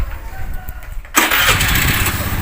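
A motorcycle engine cranks over after a quiet stretch with faint background noise, then catches and settles into a loud, steady running rumble close by.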